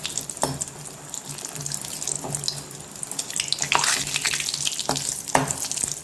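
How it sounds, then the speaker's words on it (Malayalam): Chillies and curry leaves hiss and sputter in hot coconut oil for mango curd chutney, a close, continuous crackle with a few sharper pops and spoon scrapes. "കുറച്ച് വേപ്പിലയിട്ട് ഇത് നല്ലോണം ഒന്ന് ജസ്റ്റ് ഒന്ന് ഫ്രൈ ചെയ്തെടുക്കാം."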